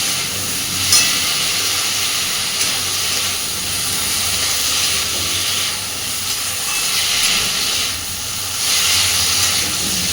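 Prawns fry together with taro stolons in a hot pan: a loud, steady, hissing sizzle that stays close and continuous, rising and falling slightly with no pauses.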